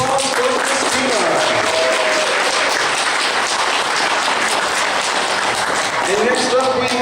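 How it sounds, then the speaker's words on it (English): A costume contest audience at an anime convention gives sustained applause, thick and steady throughout, while voices speak faintly over the clapping. "one more round of applause for Christina"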